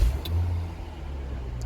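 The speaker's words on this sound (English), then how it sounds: "the car is running." Steady low engine hum from a running 2007 Chrysler 300 after a crank-no-start fault was bypassed at the relay; close and continuous, with a slight swell at the start and faint brief ticks above.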